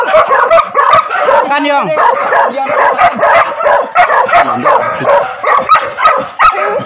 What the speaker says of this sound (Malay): Hati-hati anjing.